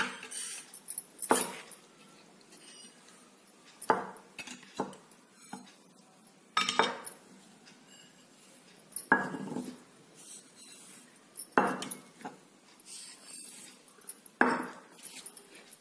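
Whole spices such as nigella seeds, cumin, carom, fennel, fenugreek and mustard seeds are poured into a small bowl and stirred with a spoon, giving a handful of separate soft clinks, rattles and scrapes between quiet pauses, with no talk.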